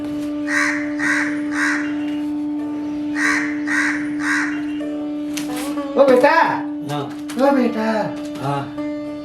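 In a narrated Gujarati children's story, a crow caws loudly in two bursts of three harsh, evenly spaced calls over a steady musical drone, then voices talk over the drone.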